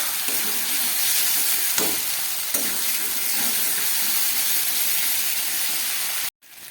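Spices sizzle in a pan for aloo dum as yogurt is added, making a continuous loud hissing fry with a couple of stirring scrapes, then a sudden brief cut near the end.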